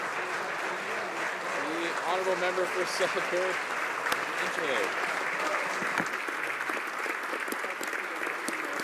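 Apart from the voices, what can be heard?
applause in the House of Commons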